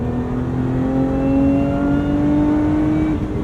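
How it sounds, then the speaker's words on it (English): A Lotus Emira with a supercharged V6 engine and manual gearbox revs steadily and loudly, a sustained engine drone with a rising supercharger whine running through it, heard up close from inside with no talk. "the supercharger whine mingles with that V6 note"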